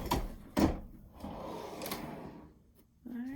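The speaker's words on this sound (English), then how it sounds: "I love the pull-out drawer" A heat press pull-out drawer slides open in one smooth pull, with a couple of sharp clunks at the start and a soft scraping slide after; close and fairly quiet, no talking.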